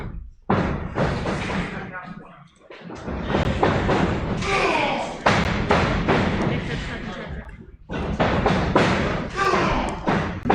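Heavy thuds of wrestlers slamming onto the ring canvas during a wrestling match, several booming impacts mixed with crowd noise and commentary voices throughout.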